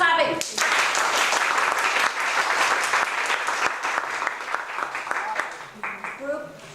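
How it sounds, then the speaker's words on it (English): An audience at a Toastmasters youth leadership graduation does a practice round of clapping: a loud, dense burst that starts abruptly, stays full for several seconds, then thins out toward the end. "Good clapping."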